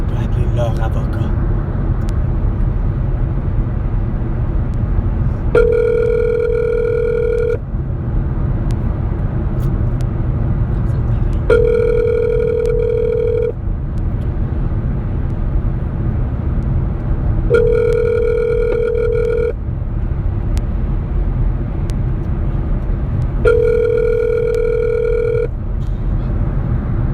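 Repeated ring-back tone on a phone call to a lawyer's office, four evenly spaced two-second tones over a steady background hum, with no one speaking.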